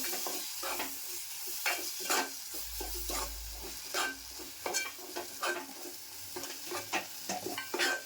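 Ground masala paste sautéed in gravy for Malvani prawn masala: steady close sizzling under repeated scraping stirs of a spoon in the pan, in an uneven rhythm with no talking.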